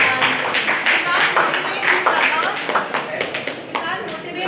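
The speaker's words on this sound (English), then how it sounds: "Please clap for everyone." Audience clapping at a motivational talk on resilience and focus, a dense patter of hands mixed with chatter and voices over it, sustained throughout with some sharper individual claps standing out.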